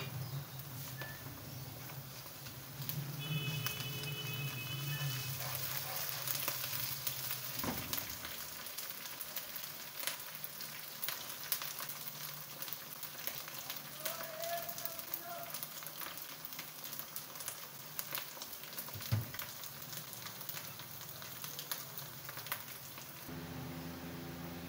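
Garlic, ginger and whole spices fry in hot oil in a pan, giving a soft, steady sizzle with small crackles and occasional stirring clicks, fairly faint and close, with no talking.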